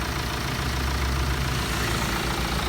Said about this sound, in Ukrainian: Двигун робить чисто, рівномірно, вібрації немає чрезмірної.